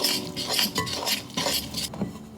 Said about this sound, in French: On va mélanger avec la fourchette, encore une fois.